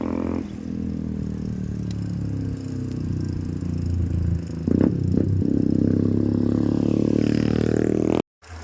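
A motorcycle rumbles along a road, its steady engine drone holding loud and close throughout with a brief rattle midway, then cutting off near the end.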